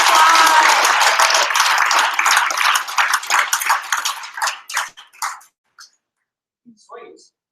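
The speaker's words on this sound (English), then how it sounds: "massive round of applause" Loud audience applause at a hackathon closing night, dense clapping that thins into scattered claps and fades to silence, with a few isolated claps at the end.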